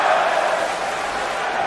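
A wrestling crowd roars at a pre-show opening match, a dense, sustained wall of cheering and shouting with no single voice standing out.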